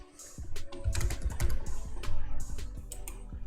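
An admin username goes in on a computer keyboard as a quick burst of close, clacking keystrokes in irregular rhythm, heard alone.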